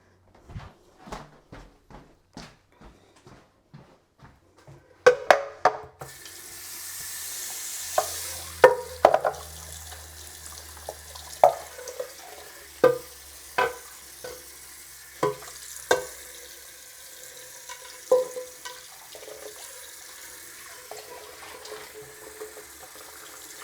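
Running water splashes while a ceiling fan blade is rinsed, with a series of sharp clinks and knocks, first lighter and then louder, close by.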